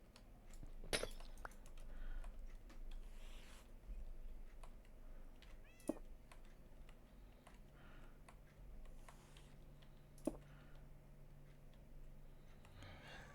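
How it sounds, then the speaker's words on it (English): A pet cat meows indoors in a few short, faint calls spread across a quiet room background, with a couple of sharp clicks and soft ticking between them. "There's my cat."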